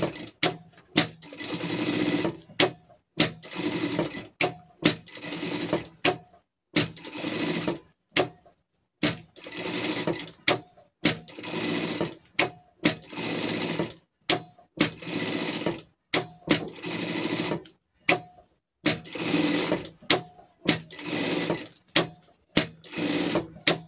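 A sewing machine runs a safety seam on faux leather and quilted metallic fabric, in short repeated bursts of rapid stitching separated by brief pauses, close and loud.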